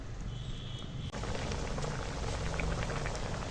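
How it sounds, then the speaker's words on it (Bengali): Shrimp jhalda curry bubbling in a pot on the stove, a steady close simmering hiss with soft popping bubbles throughout, no voices. "এবার ফুটে যাওয়া পর্যন্ত অপেক্ষা করব"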